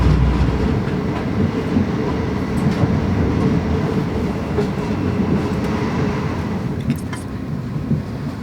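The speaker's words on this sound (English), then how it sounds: "I find myself on a South Western Railway service." A South Western Railway train rumbles steadily along the rails toward Winchester with a continuous low roar and faint rhythmic clicks, heard from inside the carriage.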